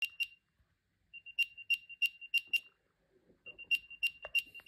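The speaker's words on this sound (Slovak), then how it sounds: "Ten zvuk pripomína také malé pípanie." An Apple AirTag plays its locator sound near a bicycle, a series of high, thin electronic chirps in quick groups separated by short pauses, clear and close against near silence.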